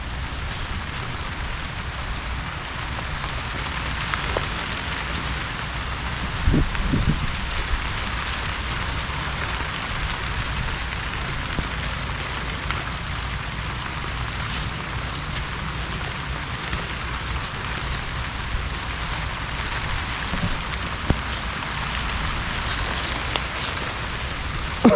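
Steady rain falls on a rural riverside farm with eggplant and papaya plants, a constant dense hiss lasting throughout with a few brief louder knocks, no voices.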